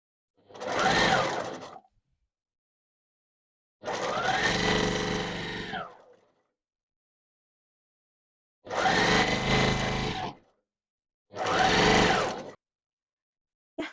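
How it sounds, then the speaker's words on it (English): Sewing machine stitching the sleeves of a blouse made from a tablecloth, running in four separate bursts of one to two seconds each, with silent pauses between them and close, steady motor whirring. "So I'm going to finish stitching the sleeves close and then attach it to the bodice."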